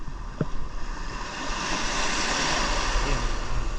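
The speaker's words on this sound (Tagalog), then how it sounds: "Ayan, malakas ang alon." Strong ocean surf at White Beach, Puerto Galera, rolls and builds into a strong, steady roar, with wind buffeting the microphone and no talking.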